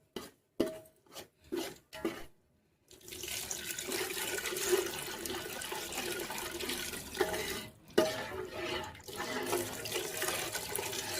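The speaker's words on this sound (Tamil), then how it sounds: "இந்த டைமில் புளி தண்ணி ஊற்றிங்க" Tamarind water is poured into a simmering fish curry masala, a steady liquid pour and sizzle running several seconds after a few brief knocks, close and moderately loud.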